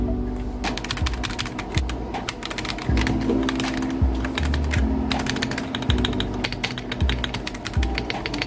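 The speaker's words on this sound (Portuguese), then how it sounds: "Switches silenciosos e gostosinhos de ouvir." Steady typing on an Akko mechanical keyboard fitted with Cream Blue V3 Pro switches, a dense run of close, crisp keystrokes with occasional heavier thocks, heard alone without speech.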